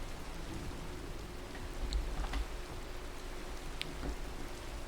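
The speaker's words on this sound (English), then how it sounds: "When is this rain going to subside?" Steady rain patters in the video game Minecraft, a soft continuous hiss with a few faint drops standing out, heard alone without talk.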